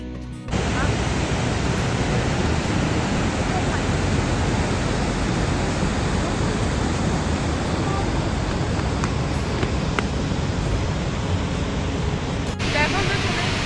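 Shivanasamudra waterfall roaring as a dense, unbroken wall of rushing water, loud and steady from start to finish with no pauses.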